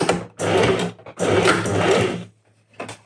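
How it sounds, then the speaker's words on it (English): A sewing machine stitches a rolled elastic pin hem in three loud, close bursts of rapid whirring and needle chatter. The bursts are separated by short pauses, and the last one is brief. "I'm going to do one more round of stitching"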